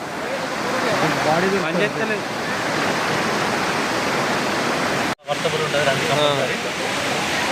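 Dumpavalasa waterfall in Maredumilli roars as a loud, steady rush of falling water that fills the whole scene, with people's voices faintly heard over it and one brief dropout.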